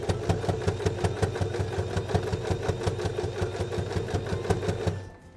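A sewing machine runs a steady stitching burst along a backpack seam, a fast even mechanical rattle close by that stops abruptly near the end.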